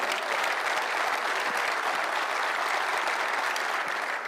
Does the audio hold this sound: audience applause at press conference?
yes